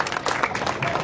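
At a 2024 state assembly election rally in a village, a crowd claps briefly and loudly, with scattered voices mixed in.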